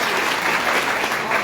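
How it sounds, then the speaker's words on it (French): Audience at an association ceremony in a hall breaks into steady, dense applause that fills the short stretch evenly, with no break. "Nous avons l'honorable Dédé Traoré, que je vous demande d'applaudir très, très fort."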